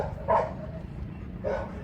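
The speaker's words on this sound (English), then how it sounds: "the lovely accompaniment of dogs barking." Two barks from a dog at a distance near a Turkish harbour, spaced apart, over a faint background of outdoor noise.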